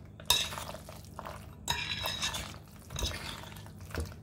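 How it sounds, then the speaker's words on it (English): Spoon scraping and stirring a cheese mixture into baked ziti in a pan, with several soft clinks and wet mixing sounds in irregular bursts, close and fairly quiet. "Stir that in"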